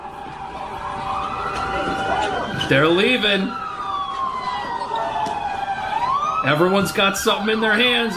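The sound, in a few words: police car siren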